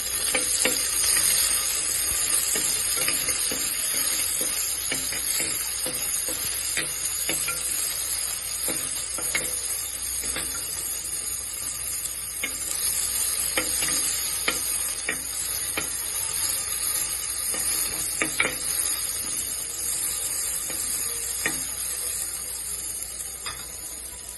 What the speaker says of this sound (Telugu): జీలకర్ర ఆవాలు వేగిన తర్వాత కట్ చేసుకున్న ఉల్లిగడ్డ, అది కొంచెం ఫ్రై అయినాక